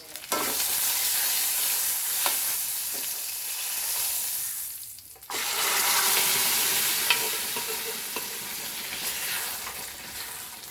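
Tapioca cooks in a hot pan right after dosa-making, a loud continuous sizzle with stirring scrapes, briefly quieting midway before frying strongly again.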